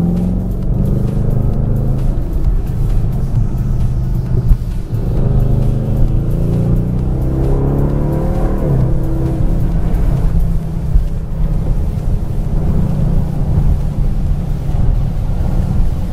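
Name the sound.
Bentley Continental GT V8 S engine accelerating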